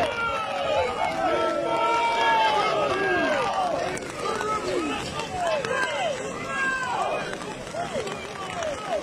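Crowd at a bullfight (korida) in Kutanja, 2021, cheering and shouting in a dense, loud wall of voices with rising and falling calls, steady throughout.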